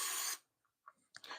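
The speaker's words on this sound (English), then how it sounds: "I'm spraying the pan down with" A short, hissing burst of extra virgin olive oil cooking spray coats an air fryer pan, followed by a brief pause and a few faint clicks and rustles.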